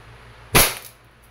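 A single sharp shot from an E&C airsoft Glock 17 Gen 5 pistol on test, one loud crisp crack with a brief decaying tail, alone against a quiet background.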